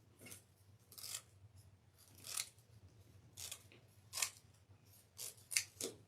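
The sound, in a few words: scissors cutting deco mesh off the roll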